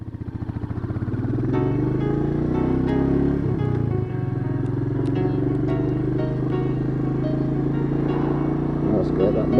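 A Royal Enfield Meteor motorcycle under way, its engine a steady, loud drone with a constant rumble that holds through the ride and rises slightly at the start.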